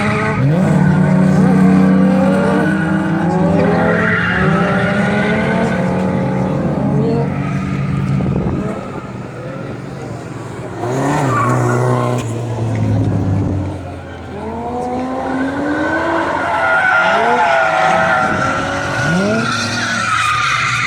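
Drift cars skid at a grassroots drift event at Lock City, tires squealing in long wavering screeches over engine revs, loud and close, repeating in several passes.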